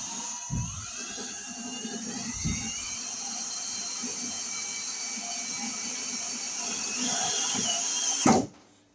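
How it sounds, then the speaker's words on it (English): A steady high-pitched drill whirs continuously for several seconds, with a few dull knocks, drilling into the solid part of an electrical sub panel box, then cuts off abruptly at the end. "And we'll drill to a solid"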